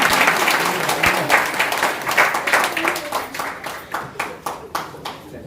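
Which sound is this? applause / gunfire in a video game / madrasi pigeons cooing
applause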